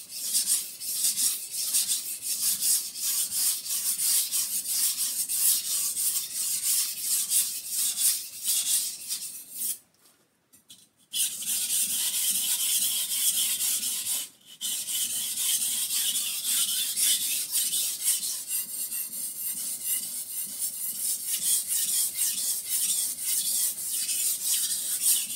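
A blade is honed across a wet water stone in steady back-and-forth rasping strokes, close and continuous, with two brief pauses partway through.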